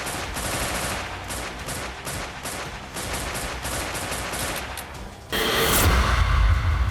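Gunfire during a terrorist attack on police officers on duty in Kashmir: a dense, steady crackle of rapid shots over several seconds, followed by a sudden louder, rougher burst near the end.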